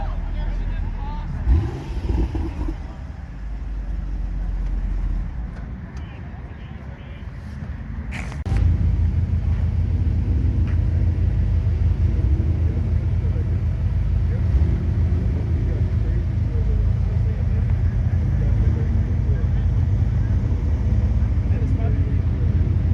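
A Honda Civic with an H22 engine idles with a deep, steady exhaust rumble that starts abruptly and holds loud and close, while voices can be heard faintly around it.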